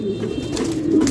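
A pair of Lahori pigeons coos in low, throaty, continuous murmurs at close range, with a few faint higher rustles above the steady cooing.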